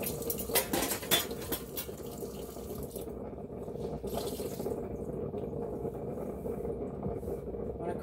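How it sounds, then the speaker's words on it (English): Dishes and utensils clink and knock in a kitchen sink with running water, several sharp clatters early on, then a steadier low wash of water, fairly quiet and close. "I am just making room in the sink."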